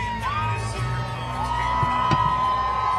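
A crowd at a Trump rally cheers and whoops from a distance, with scattered yells and a sustained whistle-like cry over a steady background murmur.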